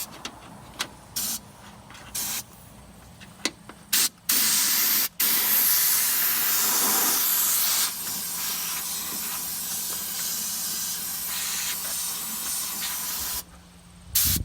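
A spray nozzle applying rust proofing to a vehicle hisses in a loud, continuous burst lasting several seconds, preceded by short spurts and clicks, then cuts off near the end.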